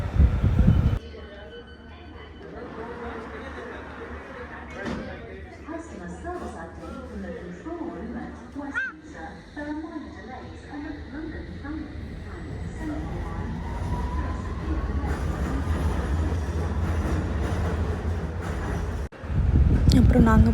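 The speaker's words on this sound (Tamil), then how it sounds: "அதாங்க ட்ரெயின்" A train pulls into a London station platform with a low rumble and clattering wheels. People talk nearby over the rail noise.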